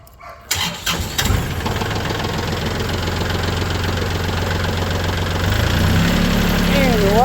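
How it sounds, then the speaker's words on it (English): An old tractor cranks over and settles into a loud, steady, chugging idle, a continuous mid-pitched engine rumble that roughens and grows slightly louder near the end, close to the listener. "crank old tractor up"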